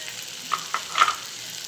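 Chopped green chillies land in a pan with ginger and fry, giving a faint sizzle with a few soft crackles and stirring taps.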